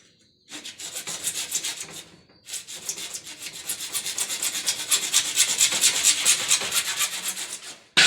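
A plastic water pipe is sawn by hand during plumbing work, a rapid rhythmic rasping of back-and-forth strokes that pauses briefly, then resumes steadily and close for several seconds.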